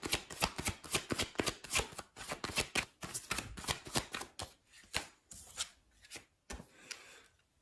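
Tarot cards being shuffled and drawn, a rapid run of crisp papery riffs and flicks close up, pausing briefly then continuing with a few slower slaps as cards are laid out, with no talking.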